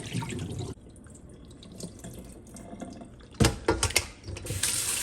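Water splashes and drains from rinsed chicken in a sink, starting as a rushing flow, then dropping to quieter trickles before louder gushing splashes return near the end.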